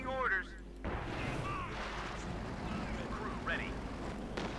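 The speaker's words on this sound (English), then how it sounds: "Howitzer firing away." A howitzer in the Company of Heroes 2 strategy game booms with a heavy low blast, followed by rumbling in-game battle noise and short unit voice lines, while a commentator talks throughout.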